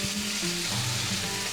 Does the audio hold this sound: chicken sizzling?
yes